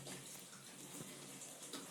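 A video game car drives through water, giving a steady, dense splashing and rushing wash that runs evenly throughout without letting up.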